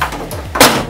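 A car door on a Standard Eight is shut with a single firm thump, preceded by a faint handling rustle, loud and close.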